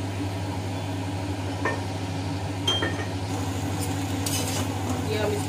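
Vegetable hakka noodles are stirred and tossed in a pan with soy sauce and vinegar, heard as light scraping and clinking over a constant low hum.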